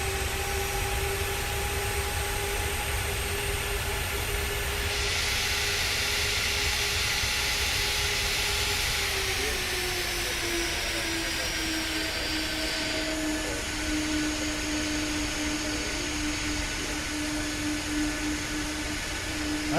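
Boeing 747 jet engines whining steadily while the aircraft makes a hard right turn with differential thrust, a continuous loud turbine drone with tones that shift and drop partway through.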